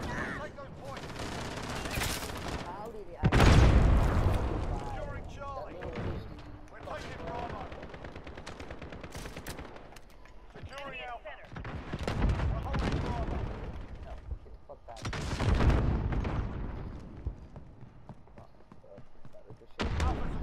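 Gunfire from a weapon in the shooter game Call of Duty: Modern Warfare, loud bursts around several moments in a cargo container map, mixed with game noise and a player talking over it.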